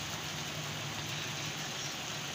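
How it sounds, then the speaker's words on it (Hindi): Heavy rain pouring down on a flooded street, a steady dense hiss with no breaks, loud and close throughout with nothing else standing out. "ठंडा हो गया ते बारिश बड़ी तेज होंदी पई हलवा दे इलाके विच।"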